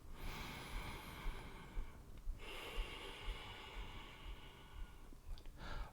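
Deep, audible breaths fill a strong vinyasa yoga flow, drawn-out airy inhales and exhales close to the microphone with a sharper snort-like breath near the end and no talking.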